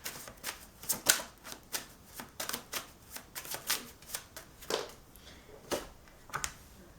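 Tarot cards being shuffled by hand, a string of soft papery riffles and flicks in uneven bursts, close and quiet, with no voices.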